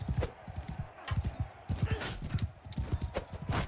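Horse hooves clip-clopping in a rapid, close rhythm in the video game Mount & Blade II: Bannerlord during a mounted tournament fight, with several galloping bursts separated by brief pauses and no talk.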